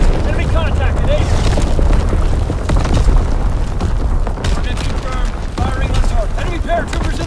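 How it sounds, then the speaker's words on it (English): Artillery fire in the World War II shooter Call of Duty: WWII, with heavy booms and bursts rolling in a dense barrage alongside gunfire and battle noise, while voices talk over the din. "Firing division artillery."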